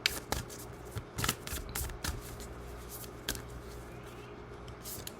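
Fairy oracle cards shuffled by hand before a reading, a steady soft riffling and flapping with sharper card snaps scattered through, close and fairly quiet, with no talk over it.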